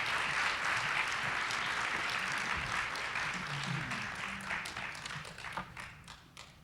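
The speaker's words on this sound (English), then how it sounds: "Let's give a warm AGT applause for Dr. Ledbetter." Audience applause at an awards presentation for Dr. Ledbetter, a dense steady clapping from the start that gradually thins and fades toward the end, with a few scattered individual claps standing out.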